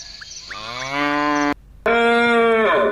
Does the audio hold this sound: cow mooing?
yes